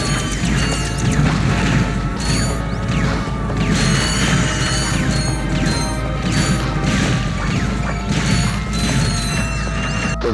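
Walloper melee weapon attacks in Ratchet & Clank, a dense stream of rapid metallic clanks, ratcheting clicks and crashing impacts over continuous game noise.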